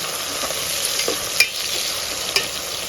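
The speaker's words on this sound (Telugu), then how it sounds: "ఫ్రై పీస్ బిర్యానీలోకి వేసుకోవాలి లేకపోతే బాగోతుంది కాబట్టి వేస్తాను బాగా అయితే వేగనిద్దాం" Mutton boti pieces from a ram fry for biryani with a steady, close sizzle, broken by a couple of sharp stirring clicks; no one speaks.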